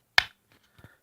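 A Ka-Bar 1477CB knife sheath snap pops open with one sharp, close click, followed by a couple of faint soft handling taps.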